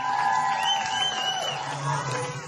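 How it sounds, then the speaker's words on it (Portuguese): Families in Israel clap and cheer while watching hostages return, a crowd of raised voices with whoops and sustained cries ringing out over a continuous roar. "Aplausos"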